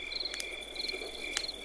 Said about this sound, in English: the water's very still at this time of night, and you can hear, like, obviously lots of crickets and birds